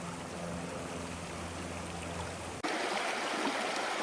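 Creek water flowing outdoors, a steady close rushing and babbling that continues without a break apart from a brief cut partway through, with no one talking.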